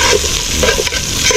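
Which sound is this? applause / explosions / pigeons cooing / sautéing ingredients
sautéing ingredients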